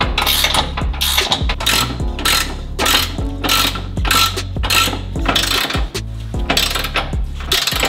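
Ratchet cranking down skid plate bolts on a Toyota Tacoma, a loud, close series of rapid metallic clicking bursts with brief pauses between strokes, plus occasional clinks of hardware.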